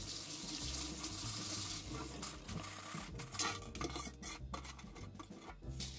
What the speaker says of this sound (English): I was instructed to rinse off the rocks, so enjoy this moment of Pebble ASMR